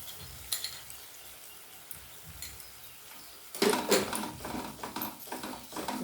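A paste of ground coconut, cashew and melon seeds sautés in a pan. A low sizzle runs under quiet scraping, then louder stirring and frying bursts come in around the midpoint and continue, with no talking.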